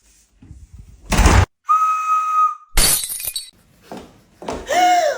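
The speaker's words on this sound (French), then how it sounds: "Et puis c'est quoi ce sifflet?" A high, sustained whistle tone sounds among bursts of sharp crashing and shattering noises, all loud and close in a rapid comic sequence.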